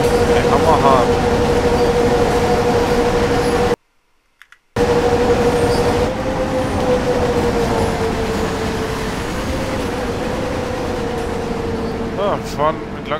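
A train in Train Sim World 2 on the Cologne high-speed line, a loud continuous rumble and rail roar with a steady tonal hum and occasional squeals, briefly cut to silence midway, with someone talking over it.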